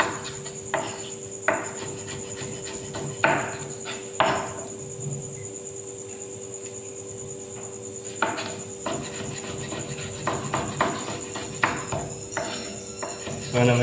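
A knife chops okra (ladies finger) into small pieces on a cutting surface, making sharp, irregular taps, some in quick runs and some spaced apart, heard close and alone over a steady background hum.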